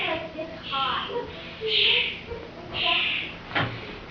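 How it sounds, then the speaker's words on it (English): Birds chirp and call outdoors near a door where cats sit watching, with several bright bursts and a fluttery trill spread over a few seconds, moderately loud and close, with a faint low hum beneath. "some other birds do not like cats being close to the door."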